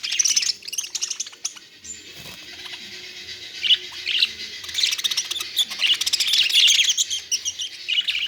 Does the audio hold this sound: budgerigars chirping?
yes